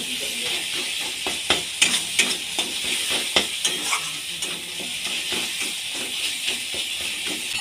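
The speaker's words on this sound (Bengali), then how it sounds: "এক চামচ ধনে গুঁড়ো এক চামচ হলুদ গুঁড়ো দিয়ে হালকা নেড়ে নেব" Chili, coriander and turmeric powder stirred in a frying pan, with a steady loud sizzle and hiss under a series of quick scraping spoon strokes, close and continuous.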